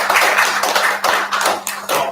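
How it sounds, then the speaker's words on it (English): A Toastmasters club audience at a celebration meeting in Chennai gives a big round of applause, close, crisp clapping in quick uneven bursts with short dips between waves. "So big round of applause to"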